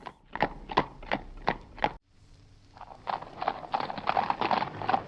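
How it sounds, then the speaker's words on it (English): Horse hooves clip-clop in a steady trotting rhythm, several crisp close hits, pausing briefly before resuming on gravel with a more crunchy texture. "Have some horse trotting"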